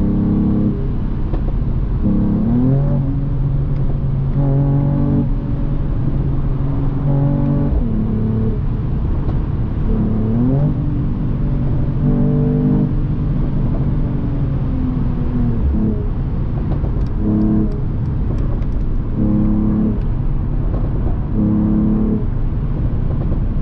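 A powerful Mercedes-AMG E53 convertible engine roars and revs repeatedly while driving on the Autobahn, rising and falling through gear changes, loud and close with no talking.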